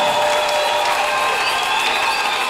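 A church congregation applauds in praise of the Lord, a steady, dense wash of clapping that holds at an even, loud level throughout.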